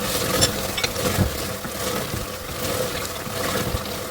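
Spices fry in ghee with beef for haleem, giving a continuous busy crackle and sizzle, with occasional stirring scrapes and soft liquid bubbling close by.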